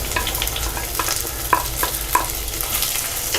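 Onion, garlic, curry leaves and green chilli sauté in hot oil in a pan for fish curry, a steady close sizzle with occasional light stirring clicks of a spoon against the pan.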